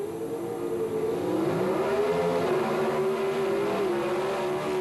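Bob Glidden's 1978 Pro Stock Ford Fairmont and Lombardo's Chevrolet Monza drag cars leaving the line together, a loud, sustained engine roar climbing and wavering in pitch as both accelerate hard.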